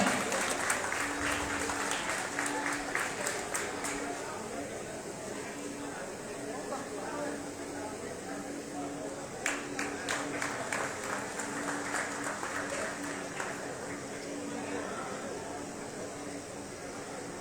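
Applause from an audience at a college golden jubilee event, a steady wash of clapping that goes on throughout, moderately distant, with some brief louder bursts of claps.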